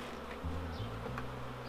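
Honey bees buzz around a hive frame holding pollen and honey during a spring hive inspection, a close, continuous droning hum with shifting pitches as individual bees move about; no speech.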